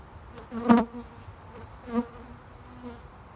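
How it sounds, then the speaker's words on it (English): Bees buzz past in short, close swells, two louder passes standing out from a softer continuous hum, with no talking. "there's plenty of bees, and I know all the foraging bees are coming back"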